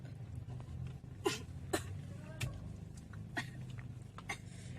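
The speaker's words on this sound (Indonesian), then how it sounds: "Kenapa kok batuk-batuk?" Several short, faint coughs come in quick succession over a low, murmuring background, while drinking green grass jelly (cincau) in a mall.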